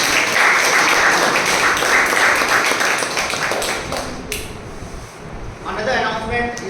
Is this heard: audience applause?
yes